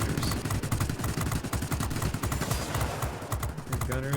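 Rapid machine-gun fire from an aircraft's rear gunner in the World of Warplanes air-combat game, a dense, continuous rattle of shots that runs loud and steady throughout.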